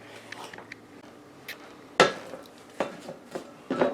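Corn pudding ingredients are stirred in a mixing bowl, with a spoon clinking and knocking against the bowl in irregular taps, a few louder strikes among softer scrapes.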